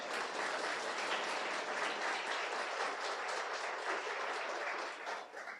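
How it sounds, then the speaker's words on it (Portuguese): A church congregation applauds steadily, a dense wash of clapping that holds for several seconds before tapering slightly at the end. "Pode aplaudir Jesus, irmãos."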